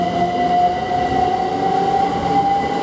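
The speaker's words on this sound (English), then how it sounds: "1357 service from London King's Cross to King's Lynn is just now departing." A Great Northern Class 387 electric train pulls away from a station, its steady loud rolling hum joined by a high sustained electrical whine, with no voices.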